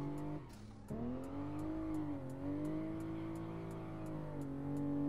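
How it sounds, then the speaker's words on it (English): A car drifts through traffic in the No Hesi racing game. A sustained engine drone wavers in pitch as it revs, dips briefly near the start, then holds steady, with faint regular ticks over it. "Oh, long drift, but we hit the car."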